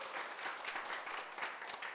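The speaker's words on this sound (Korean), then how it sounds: "박수." Audience applause at a televised lecture, a steady dense wash of many hands clapping, fairly faint and continuous throughout.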